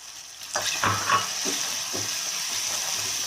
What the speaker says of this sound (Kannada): ಕಾಲು ಕೆ ಜಿ ಲಿವರ್ ತೊಗೊಂಡಿದ್ನಲ್ಲ ಅದನ್ನ ಹಾಕ್ತಾ ಇದ್ದೀನಿ